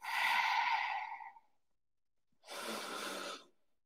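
Two slow, deep breaths during a yoga stretch, a long airy exhale close to the listener, a short pause of silence, then another full breath, quiet and unhurried with no talking.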